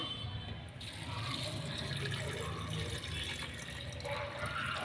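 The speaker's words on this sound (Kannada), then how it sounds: "ಈಗ ಬೆಚ್ಚಗಿರೋ ನೀರು ಹಾಕ್ಕೊಳ್ಳೋಣ" Warm water pours steadily into a container of beetroot kanji ingredients, a continuous splashing gush that runs the whole time without pause.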